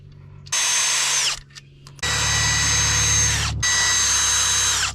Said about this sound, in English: I started by taking bolts out of the clutch casing.